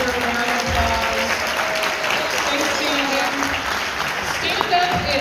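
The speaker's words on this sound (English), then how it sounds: "Those people deserve a round of applause" Loud audience applause at a high school band Christmas concert, a dense crowd clapping throughout with voices and some cheering mixed in.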